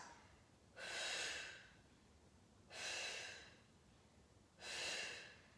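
Deep breaths are drawn during a classical Pilates mat exercise: three slow, even breathing cycles, each a soft, airy swell lasting about a second, with quiet pauses between them and no talking.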